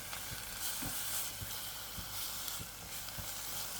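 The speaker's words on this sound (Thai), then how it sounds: "วันนี้เชฟจะเอาหมูสามชั้นเนี่ยมาลวนครับ" About 400 grams of sliced pork belly stir-fry in a pan with a continuous soft sizzle, broken by quiet regular scraping taps of a spatula.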